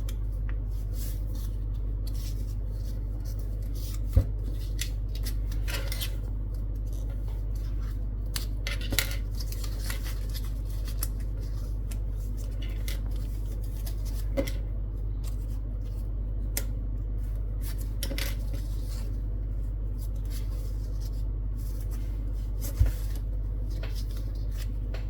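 Paper being creased and folded into an origami Spectre fighter jet: soft continuous crinkling and rustling with scattered small crisp clicks over a steady low hum.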